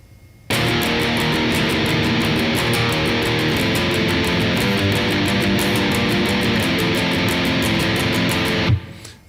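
Guitar Pro software playback of a black metal riff in straight triplets: dense, continuous distorted tremolo guitar over rapid drumming, loud and steady for about eight seconds before stopping abruptly.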